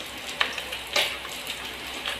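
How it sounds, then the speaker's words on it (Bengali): Fish fries in a pan with a continuous sizzle and a few sharper pops and spits rising above it, close up and without any talk. "মাছটা ভাজা হতে হতে"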